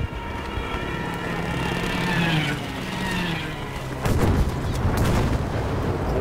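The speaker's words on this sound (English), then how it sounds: "Come the airstrikes." Airstrike explosions in Battlefield V boom over a steady rumble of gunfire and engine drone, with a sudden heavy burst of blasts partway through.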